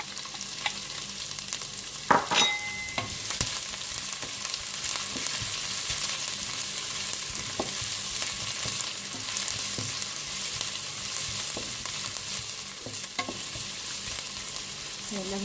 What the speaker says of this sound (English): Yan lang natin medyo mag-translucent yung ating onion.